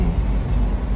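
Dense road traffic in Half Way Tree, Kingston, Jamaica: a continuous low rumble of cars, buses and trucks passing nearby, loud and steady with no clear individual events.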